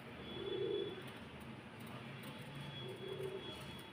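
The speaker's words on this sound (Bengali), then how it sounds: "ওখানে পায়রাটা।" A pigeon cooing faintly near a house in the early morning, two soft low coos separated by a pause, over a quiet hum of background noise.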